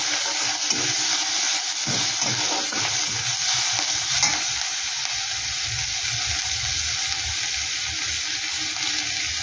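Grated ginger, garlic and green chili fry in oil with a loud, continuous hissing sizzle, and a spoon stirs and scrapes through the mixture now and then.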